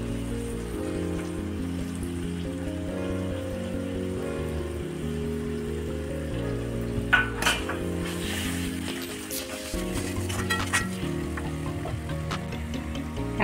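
Masala for egg biryani with fresh coriander frying in ghee, a steady crackling sizzle like rain on a surface that carries on throughout, with a few louder spits and clatters partway through.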